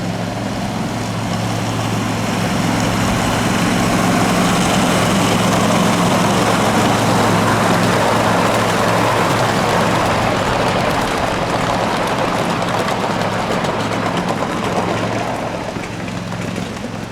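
A miniature Seaboard high hood diesel locomotive idles steadily nearby, a constant low engine drone with a broad rumbling hum that holds evenly throughout, no voices.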